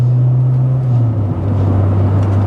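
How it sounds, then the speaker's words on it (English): An older Honda Civic VTi EG6 with a B16 DOHC VTEC engine and Spoon N1 exhaust holds a loud, steady, deep engine drone, briefly dipping in pitch partway before settling back into the same hum. "the VTEC on this thing sounds absolutely immense"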